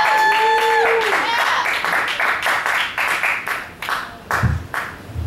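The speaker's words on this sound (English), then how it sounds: "Round of applause for everybody that's touched the stage before me." A performance audience claps for the acts that came before, a loud, fairly steady wash of applause with sharp individual claps standing out, fading somewhat toward the end while voices call out over it.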